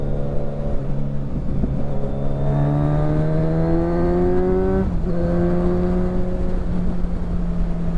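A 2020-onward Kawasaki Ninja 1000SX with a Black Widow exhaust and the baffle removed revs up close and loud, the engine note climbing steadily, dropping sharply, then rising again, with no voices.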